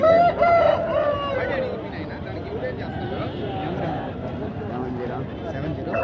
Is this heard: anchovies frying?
no